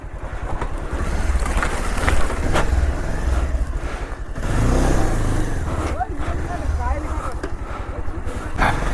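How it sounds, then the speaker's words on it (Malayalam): A 220 motorcycle engine revs and strains in bursts, rising and falling as it labors up a steep off-road slope, with voices talking over it and wind buffeting the microphone. "ഇവിടെ ആദ്യമായിട്ടാണ് ഒരു ബൈക്ക് കയറാൻ പോകുന്നത്"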